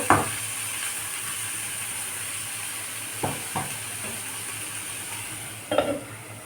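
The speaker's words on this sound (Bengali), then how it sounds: "সবগুলোকে ভালো করে ভেজে নেব" A quiet, continuous sizzle of green plantain and paneer frying in a pan, broken by a few scraping clinks of a spatula stirring.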